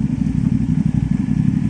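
A 450SR motorcycle fitted with an Akrapovic exhaust runs steadily, its engine giving a continuous low rumbling drone close by, with no talk over it.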